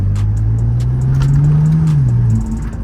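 Engine of a BMW Z4 sDrive30i E89 while driving, a loud close-up hum that rises smoothly in pitch under acceleration, then dips as the revs drop near the end, with faint clicks above it.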